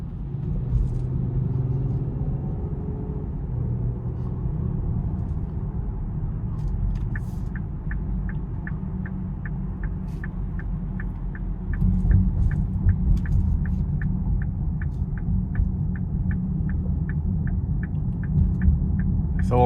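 A 2026 Lincoln Aviator Premiere with a twin-turbo V6 cruising on the road, heard from inside as a steady low engine and road rumble that swells slightly partway through, with a regular soft ticking chime running over it.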